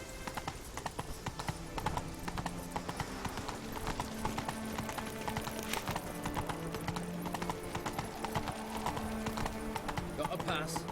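Roach the horse in The Witcher 3 gallops with a steady, close clip-clop of hooves across the whole stretch, beneath game music and ambience, with a brief whinny-like sound near the end.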